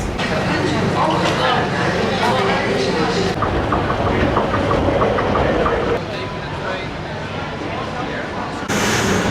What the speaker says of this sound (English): think this is our train